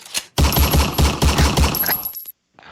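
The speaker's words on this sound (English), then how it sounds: "do you have the gunfire by itself ready to roll by any chance?" A gunfire sound effect played for a radio show: a rapid, loud burst of about eight close shots in an even machine-gun rhythm, with brief quieter sounds before and after.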